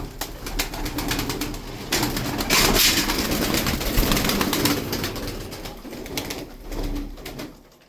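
Pigeon cooing close by, soft repeated coos in uneven bursts with some rustling and handling noise around them, no talking over it.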